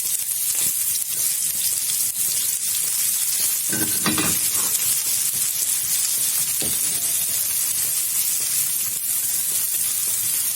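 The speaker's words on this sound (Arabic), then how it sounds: "نقلب بقى السمنه مع الزيت مع البصله لغايه كده بس تبقى ايه صفرة بس كده" Grated onion frying in ghee and oil as it is stirred: a loud, continuous close sizzle and crackle with a few spoon scrapes through the middle.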